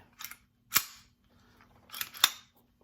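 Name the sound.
magazine released and dropping out of Hi Point C9 pistol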